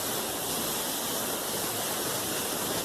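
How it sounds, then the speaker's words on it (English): A large waterfall at a volcano-area swimming spot roars as a steady, dense, broadband rush of falling water, loud and unbroken throughout with no voices over it. "There's the waterfall."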